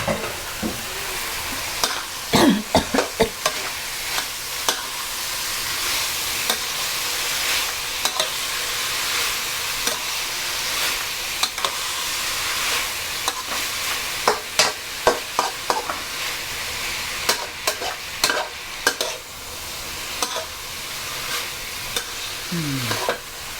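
Bean sprouts with minced pork and fried tofu are stir-fried in a hot pan, giving a steady loud sizzle broken by repeated scraping and clattering spatula strokes throughout, with no voices.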